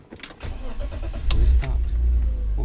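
BMW E36 engine cranking on a weak battery, then catching and settling into a low, uneven idle close by.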